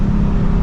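A Nissan 350Z's engine booming in a brief low rev during a downshift, heard steadily and loudly from inside the car.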